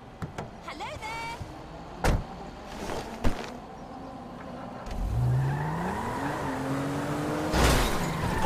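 A car in Grand Theft Auto V, with a door thud and clicks, then the engine revving up and accelerating in a rising whine, people talking between the sounds.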